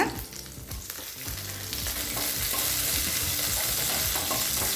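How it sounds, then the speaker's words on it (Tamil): Green chillies fry with small shallots in a pan for a spicy chutney, a dense close sizzle that swells after a brief stir and then holds steady. "இப்போ சின்ன வெங்காயம் நல்லா வதங்கிடுச்சு. 10 பச்சை மிளகாய் சேர்த்துக்கலாங்க."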